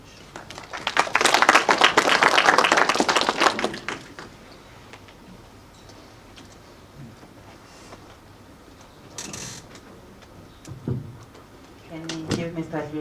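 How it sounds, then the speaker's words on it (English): Audience applause following a presentation at a development-plan stakeholder breakfast meeting, a loud burst of clapping at first that fades, followed by scattered knocks and brief talk. "Can we give Mr. Dludlu another round of applause?"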